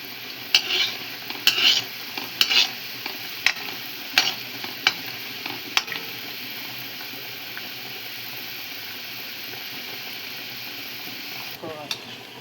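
Gulab jamun dough balls fry in hot oil with a constant soft sizzle, while sharp clicks and scrapes of a spoon stirring through the pan come in a run of taps near the start and then fade to steady bubbling.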